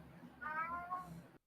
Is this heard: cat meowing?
yes